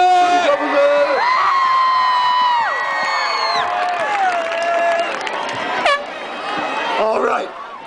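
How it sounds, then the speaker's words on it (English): A large crowd at a high school homecoming rally cheers, whoops and shouts loudly and continuously for the student government, with children's voices rising above the roar before it fades toward the end. "Let's give it up for our student government!"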